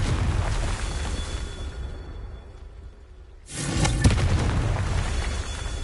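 A Confringo blasting spell explodes in Hogwarts Legacy: a sudden, loud, full-bodied blast erupts after a quieter stretch and keeps rumbling and crackling, following a steady wash of game ambience.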